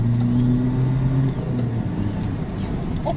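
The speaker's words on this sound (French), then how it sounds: "on entend le bruit derrière du pot" A small car's engine and exhaust pull steadily under acceleration, a loud continuous drone heard from inside the cabin with the pitch holding and then dropping slightly, no talking over it.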